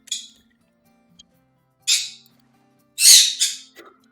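A small bird squawks in short, sharp bursts: one near the start, another about two seconds in, then a louder double squawk near the end, with quiet gaps between them.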